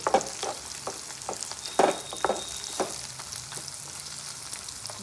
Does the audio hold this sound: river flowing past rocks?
no